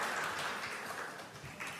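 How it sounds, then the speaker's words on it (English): Warm audience applause closing a debate at a cooperatives conference, a steady wash of many hands clapping at moderate level throughout. "we can close this debate by a warm applause"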